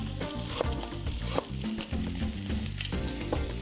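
Ginger sizzling as it fries in a wok on a cooking show, a loud, continuous crackle and hiss with occasional sharper pops, close to the pan and with no talking.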